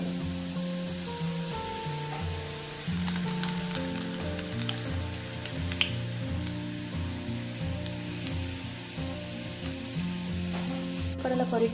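Steady sizzling of roasted chickpeas frying in hot oil over low heat, a soft crackling hiss running throughout beneath background music.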